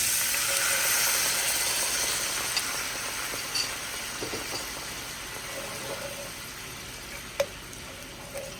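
Beef stock poured into a hot pan of sautéed ingredients for a budget steak dinner, giving a steady broad sizzle that slowly fades, with a few faint clicks of utensils, no talk.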